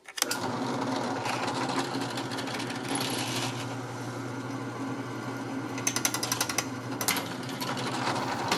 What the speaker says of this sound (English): we're going to drill from the back side